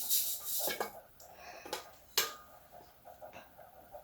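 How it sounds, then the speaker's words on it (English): Dry ingredients for banana bread sifted into a big bowl: a series of light metallic taps and scrapes from the sifter against the bowl, irregularly spaced, close and fairly quiet. "You're going to sift all your dry ingredients into a big boy bowl"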